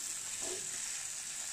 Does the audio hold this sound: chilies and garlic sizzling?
yes